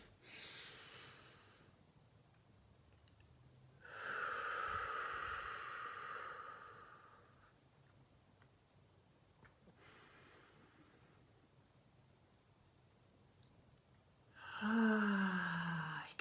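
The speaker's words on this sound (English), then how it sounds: "let's take some deep breaths" Slow, deep, conscious breaths taken in a quiet room, several long airy inhales and exhales spaced seconds apart, the last exhale ending in a soft voiced sigh.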